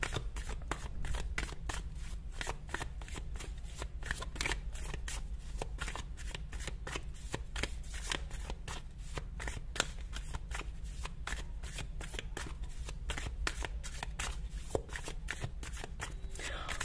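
Tarot cards shuffled continuously in a steady riffling rhythm, close and fairly quiet, with no talk over it.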